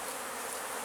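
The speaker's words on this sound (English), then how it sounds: "all of the bees here are from swarms" A dense, constant buzz of bees around backyard hives stocked from captured swarms, recorded close and filling the whole short stretch without any voices.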